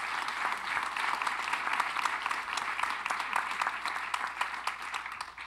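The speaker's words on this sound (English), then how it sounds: "Can we give them a round of applause on tonight?" Steady, even applause from an evening audience at a university event celebrating Medgar and Myrlie Evers, sustained throughout at moderate loudness with a faint low hum beneath.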